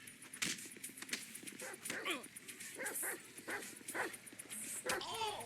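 A dog in the video game GTA V barks several times in short yips and bow-wows, mixed with whimpers, under steady game sounds and people talking.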